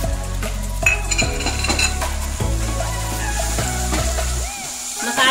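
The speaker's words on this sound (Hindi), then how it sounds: "मसाले को थोड़ा सा भूनने देते हैं।" Tomato and masala with rock salt roast in an oily pan, sizzling under repeated spoon scrapes and metallic clinks against the cookware, with a steady tonal hum in the background.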